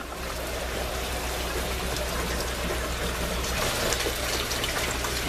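Water trickling and splashing through grow media in an aquaponics setup, a steady close wash of flowing water with no talk.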